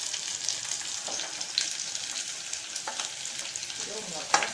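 Onions sautéing in hot oil with bay leaf, pepper and cumin for a kollu soup, a steady close hiss of frying with occasional light stirring scrapes and a sharper clink near the end.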